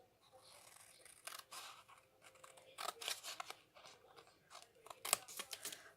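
Scissors snip through card stock in a string of crisp, close cuts, with short bursts of rapid snipping and small pauses between them, sometimes rustling as the pieces come away.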